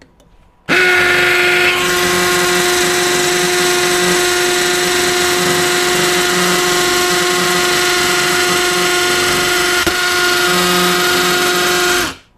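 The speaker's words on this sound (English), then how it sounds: "We'll step up to a 3/8. So 3/8 into the cinder block" Milwaukee M12 FUEL Gen 3 hammer drill boring a 3/8 bit into cinder block, a loud, sustained high-pitched whine with hammering texture running unbroken for about eleven seconds before stopping.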